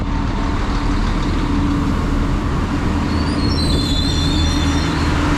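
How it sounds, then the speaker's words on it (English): Irish Rail train 29108 pulling into a station on the Bray–Rosslare line, a loud continuous rumble with rolling wheel noise and faint high squeals of wheels on rail, no voices. "right, here's the train"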